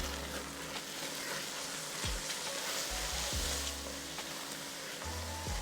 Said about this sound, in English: I'm going to let these cook gently for a good minute or even 2